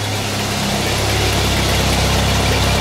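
A 1990 Jeep Wrangler engine runs steadily with a loud, close, continuous low rumble and idle-like drone, a fan whirring along, with no talk over it.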